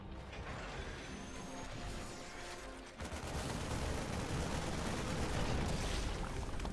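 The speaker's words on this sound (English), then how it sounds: "Marines will unload onto the tanks as well." Marines firing on siege tanks in StarCraft 2, a dense continuous crackle of rapid gunfire that swells louder partway through, with mechanical clatter mixed in.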